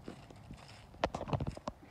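A horse's hooves clip-clop on a hard surface in a quick cluster of close, sharp knocks, following a few softer shuffling sounds.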